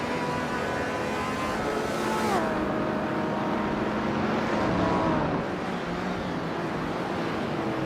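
A 1966 Ford Fairlane races in a video game, its engine a sustained loud drone that rises and dips in pitch as it shifts and revs, with other cars blending into the steady roar.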